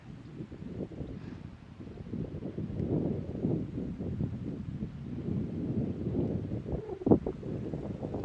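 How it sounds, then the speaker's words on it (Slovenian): Wind gusting across a paragliding launch site, a steady rushing roar with buffeting on the microphone that swells and eases throughout, close and fairly loud, with no voices. "Piha dobro, če mene vprašaš."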